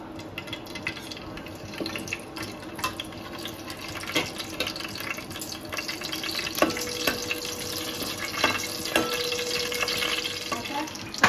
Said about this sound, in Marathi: तेल आपलं आता गरम झालेलं आहे, त्याच्यात आपण हे खडे मसाले टाकू, सगळे एकत्र टाकायचे